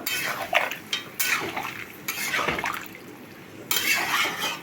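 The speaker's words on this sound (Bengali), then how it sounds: "এই গরম জলটা দিয়ে দিচ্ছি" Warm water poured into vegetables frying in a pan, a few bursts of splashing and clinking that swell and fade over several seconds, close and fairly quiet with no talk.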